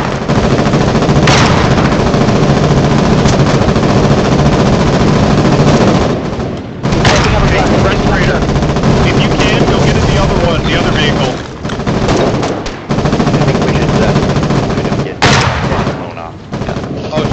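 Machine gun fire in the war video game Foxhole rattles in long, loud, dense bursts with brief pauses, mixed with other gunfire and booms, while players shout over it.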